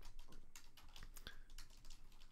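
Quiet, close tapping of a computer keyboard as a command is typed, a handful of soft irregular keystrokes alone in a hushed room.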